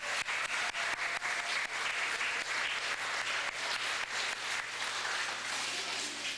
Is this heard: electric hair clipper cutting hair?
no